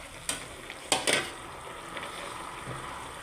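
A moringa dish simmering briefly in a pot, a faint bubbling sizzle with a few sharp clinks and stirring scrapes early on, close and quiet without speech.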